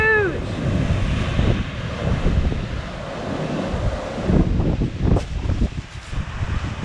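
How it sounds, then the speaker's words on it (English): Strong wind gusts buffet the microphone beside the ocean, a loud continuous roar with surging swells and crashing surf rising and falling throughout, with no other sounds. "As you can see, it was really quite windy."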